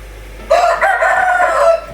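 A rooster crows once, close and loud, a short strained call that rises and then trails off, with nothing else heard around it.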